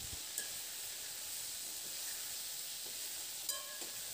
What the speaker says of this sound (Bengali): আমি এখানে ঝিঙে আলু একসঙ্গে ভেজে নিচ্ছি।